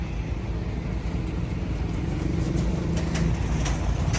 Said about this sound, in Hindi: और हम फिलहाल ट्रैफिक जाम में हैं।